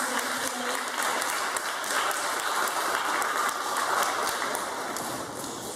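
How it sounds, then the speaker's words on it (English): An audience breaks into steady applause, a dense wash of many hands clapping at moderate distance. It holds evenly for several seconds before easing slightly at the end, with no talking over it. "give him a round of applause for doing this"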